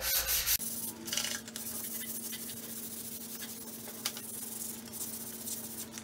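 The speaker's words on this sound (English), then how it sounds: "Went through and did a quick sanding on it" Steady rough scraping and rubbing of abrasive against metal vehicle rock sliders, continuous and close, with a faint electrical hum underneath.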